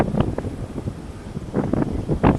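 Wind gusting outdoors along a lake trail with sandy ground, a steady rushing buffet on the microphone that swells louder toward the end, with no voices.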